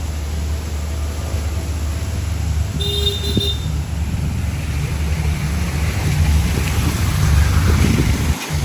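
Strong cyclone wind battering an outdoor spot in Chennai, a loud continuous low roar and buffeting rumble that swells toward the end, with no talking.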